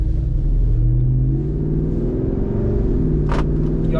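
A 2024 Jeep Wrangler Rubicon 392 rumbles loudly from inside the cabin as its engine accelerates in a steady, deep drone on a test drive, with no talking.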